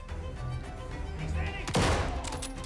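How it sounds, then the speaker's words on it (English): Gunfire in a video game trailer, a dense volley of shots building under music and effects, peaking in a loud burst of rapid fire near the end. "Those guns are always really satisfying to shoot."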